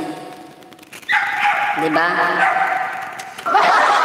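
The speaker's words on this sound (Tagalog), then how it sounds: "Maingay po yung aso dito." A dog barks and yips nearby in short bursts while a person talks over it.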